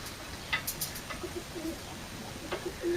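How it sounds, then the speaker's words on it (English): Pigeons cooing in a garage during restoration work on a Mk3 Ford Cortina, a few soft low coos repeating at intervals over faint background hiss and occasional brief higher chirps. "So the pigeons going crazy."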